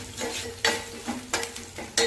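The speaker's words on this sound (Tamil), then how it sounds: "பூண்டு கருவேப்பிலை ஒரு கொட்டு இது நல்லா வதக்கிக்கலாங்க" Garlic and curry leaves sauté in a pan of oil for a Tamil mochai kottai kulambu, a soft steady sizzle broken by about four sharper bursts of stirring and scraping.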